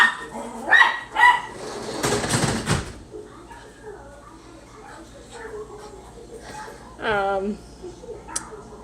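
Pet dogs barking and yipping indoors, a few sharp close barks near the start, then a higher whining yelp later, with a rustling burst between and a person speaking in the background.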